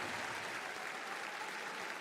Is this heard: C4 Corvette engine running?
no